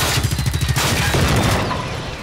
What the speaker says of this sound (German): Wer schießt denn jetzt hier schon wieder?